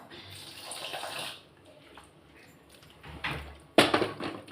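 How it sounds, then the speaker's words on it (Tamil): Water is poured into a semolina batter for paniyaram, giving two short splashy pours separated by a quiet pause, close and fairly soft. "கொஞ்சம் தண்ணி ஆட் பண்ணிக்கலாம்."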